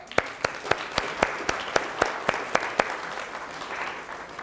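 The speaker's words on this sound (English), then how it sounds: "Let's give a round of applause." Audience applause for a contestant called up at an educational talk. Soft crowd clapping runs under a run of sharp, evenly spaced single claps that come close and loud, roughly every quarter second.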